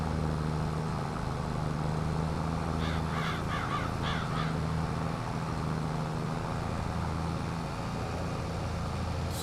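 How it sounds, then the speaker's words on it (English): A cluster of harsh crow-like caws from blackbirds in Farming Simulator 22 rises briefly over a steady low rumbling background hum, then fades, leaving only the continuous drone. "Speaking of those blackbirds, we just heard some."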